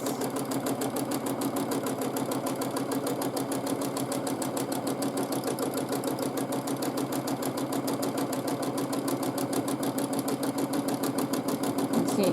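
A sewing machine quilting fabric runs at a steady fast pace, a continuous rhythmic mechanical chatter with an even needle beat that holds close and loud throughout, with no talking.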